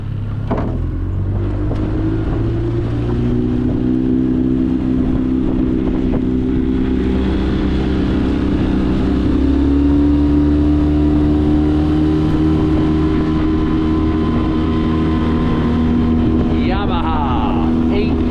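A Yamaha 8 horsepower outboard motor drones loud and steady on a boat, its pitch wavering slightly over constant wind buffeting, with voices briefly underneath.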